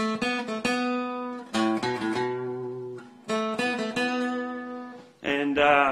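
Plucked guitar notes ring out in short pairs, a flat seventh stepping up to the root, a Mixolydian sound, played clearly and alone with brief pauses between.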